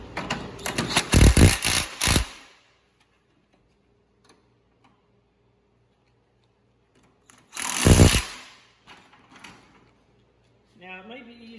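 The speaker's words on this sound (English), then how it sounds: "I'm going to go ahead and tighten these up real quick. 15 millimeter on the side, 17 millimeter socket on the bottom." A socket wrench ratchets in two short bursts of rapid clicking, tightening 15 mm and 17 mm bolts on the steering of a John Deere lawn tractor. A quiet pause separates the bursts, and a brief voice comes at the end.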